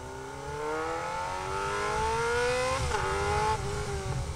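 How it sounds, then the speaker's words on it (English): Motorcycle engine held at a steady drone with rising pitch, then a quick throttle blip and pitch drop as it downshifts into the next gear, close and loud, no talk. "kick down into the next gear, and at the same time I'm doing that, I release the throttle, just ever so slightly"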